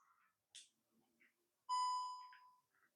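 A DJI Osmo Mobile 3 gimbal gives short electronic beeps while trying to link up, including a sustained, loud tonal beep near the end with brief fainter chirps around it, close and clear with no talk.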